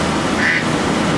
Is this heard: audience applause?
no